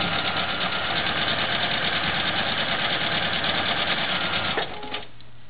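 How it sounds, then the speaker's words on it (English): Sewing machine stitching over a quilt seam, a steady close mechanical hum and rapid needle clatter that stops abruptly near the end. "I'm going to go right here and I'll re-sew over where it did not sew it"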